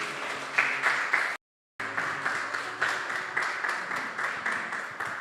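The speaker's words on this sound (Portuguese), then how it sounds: "Você pode aplaudir o Senhor Jesus mais uma vez?" A church congregation at a worship service claps together, a steady rhythmic applause with a brief dropout early on, then resuming in even pulses until the end.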